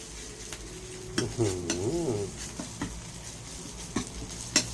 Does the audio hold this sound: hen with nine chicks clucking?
no